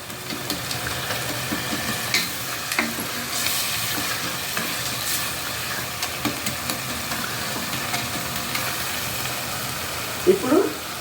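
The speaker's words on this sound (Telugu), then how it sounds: "ఇప్పుడు నేను 1 స్పూను అల్లం వెల్లిపాయ పేస్ట్ చేస్తానండి. కొంచెం ఇట్లా వేయించి పచ్చివాసన పోయే వరకు వేస్తాను." Ginger garlic paste frying in a pan gives a soft, steady sizzle and hiss with scattered light clicks, ending in a brief louder clatter near the end.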